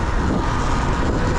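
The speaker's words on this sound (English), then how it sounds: "Yeah, we got a bus coming" A city bus approaches along a Los Angeles street, a steady low rumble of heavy engine and road noise building close by for a brief moment.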